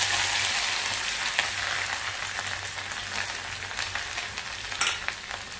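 Grated ginger and cumin seeds fry in hot oil in a pan, giving a steady, close, loud sizzle with faint crackles and a few stirring clatters, with no talk.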